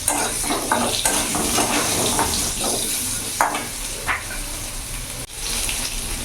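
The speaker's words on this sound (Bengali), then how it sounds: "তো আলুটা আমি ভেজে নেব।" Long-cut potato strips fry in hot oil with a loud, dense sizzle that carries on throughout, plus occasional stirring clatter in the pan.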